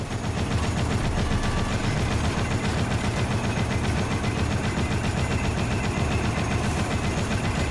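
A fixed turret fires nonstop in the Dead Rising video game, a dense, loud, continuous stream of rapid gunfire with no talking.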